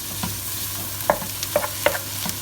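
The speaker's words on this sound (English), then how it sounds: "turn the heat up and add your mince. And then you're just going to mix that around" Minced meat frying and being stirred in a hot pan for chilli con carne, a steady low sizzle with a few sharp scraping clicks of a utensil against the pan, close and fairly quiet.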